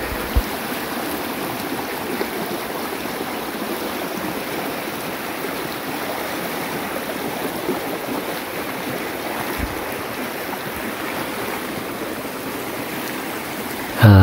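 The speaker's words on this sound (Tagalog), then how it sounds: "At ito na yung pinaka last na tatawirin natin sapa" Steady rushing and splashing of shallow stream water as someone wades across the last of three creeks, a continuous broadband flow held at an even level for the whole stretch with no voices.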